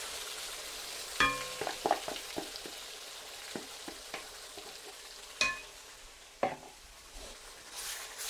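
Blended paste for homemade matar paneer is tipped into a hot pan with dried chillies and sizzles steadily, broken by several sharp clinks and scrapes of a utensil against the pan.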